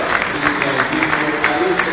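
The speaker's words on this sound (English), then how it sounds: "Please give them a strong round of applause" A crowd gives a round of applause for an administration team at a public event, loud, dense clapping close by with voices murmuring underneath.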